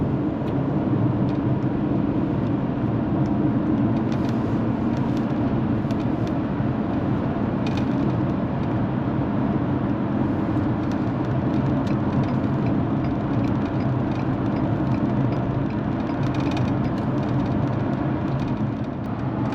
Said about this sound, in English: we're driving down the highway